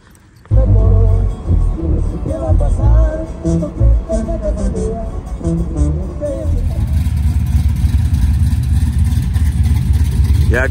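A cammed Chevrolet Z71 single cab truck with a GPI SS3 cam starts up and revs, its engine rising and falling in loud bursts before settling into a lumpy, choppy idle that runs to the end.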